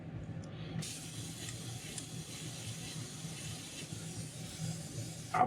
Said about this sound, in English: And we're going to go ahead and spray some yellow